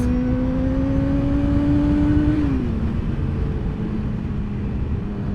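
Honda CBR 600 motorcycle engine while riding: a loud, steady droning tone mixed with wind rush, dipping slightly in pitch partway through.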